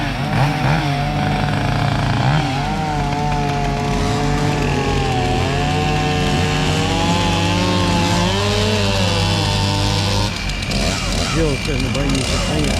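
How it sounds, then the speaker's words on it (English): A chainsaw cuts wood during a chainsaw class, its engine roaring loud and near without pause, the pitch wavering as the saw bites and then revving higher near the end. "we're about to start sawing"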